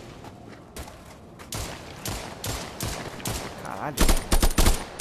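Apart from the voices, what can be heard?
gunfire and headshots in VR game Contractors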